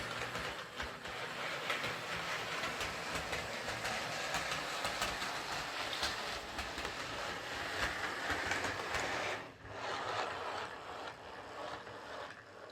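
A Hornby Class 9F Evening Star model steam locomotive with old dirty axles runs lumpy on its track, giving a steady close mechanical whirr with faint clicking and rattle and one brief dip near the end.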